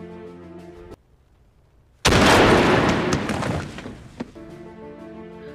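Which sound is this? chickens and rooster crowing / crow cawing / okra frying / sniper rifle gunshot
sniper rifle gunshot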